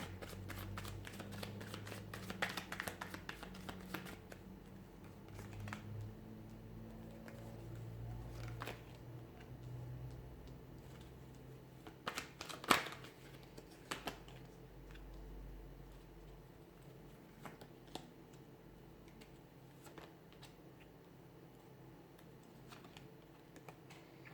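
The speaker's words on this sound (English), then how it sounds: "give the cards a shuffle" A deck of tarot cards is shuffled close by, with soft riffling and tapping rustles scattered throughout, quiet and without talk.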